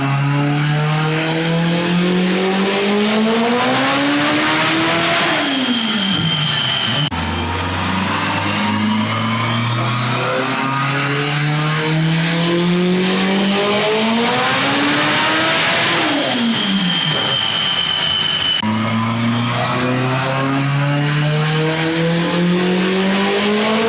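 An AWD Honda Civic on a Haltech tune screams through repeated full-throttle pulls to 10,000 RPM on a dyno, loud and close, each rising sweep ending in a brief drop before the next climb.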